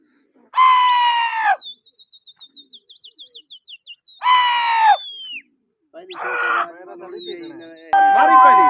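Pigeons in a pigeon flying competition call out in short bursts of cooing and chirping, with rapid tweeting trills between, close and fairly loud, while a voice talks intermittently.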